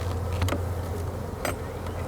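Honey bees hum in a low, steady drone during a beehive split, close by, with a couple of brief brushing thumps.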